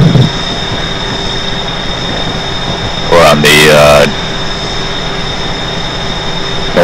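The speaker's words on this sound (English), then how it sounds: "This is a fairly old train." An old Comet 5 passenger coach train runs along the Northeast Corridor with a steady low rumble and hum, a brief louder burst of squealing, rattling noise in the middle, and a person speaking over it.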